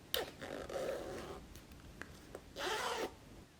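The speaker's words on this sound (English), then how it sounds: "Make sure that your zipper opens easily." A zipper on a sewn fabric pouch is run one way and then back, two close, distinct rasping pulls separated by a short pause, with faint handling noise between.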